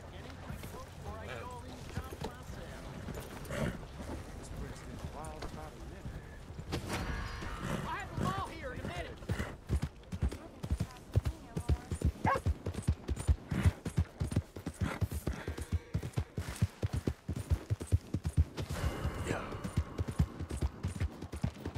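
Horse hooves clip-clop in Red Dead Redemption 2, starting as a soft, irregular patter and settling into a fast, steady rhythm of close hoofbeats, with voices talking over them at times.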